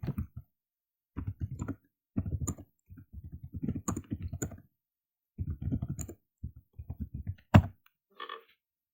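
Bursts of clicking keystrokes on a computer keyboard as a question is typed into a Google search, coming in uneven clusters with short pauses, close and fairly clear with no talk.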